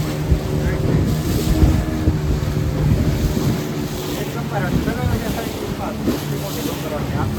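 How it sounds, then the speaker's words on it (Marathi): A boat riding through big sea waves off the Konkan coast near Devbag, Malvan, with loud continuous wind buffeting and rushing water, a steady engine rumble underneath. "मोठ्या लाटा आहेत"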